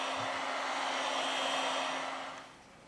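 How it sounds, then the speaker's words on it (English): A heat gun or hair-dryer-style blower warms the back of a Samsung S20 Plus to loosen its battery cover, a steady close whooshing hiss with a faint hum that drops off near the end. "We apply heat to the device to remove the battery cover."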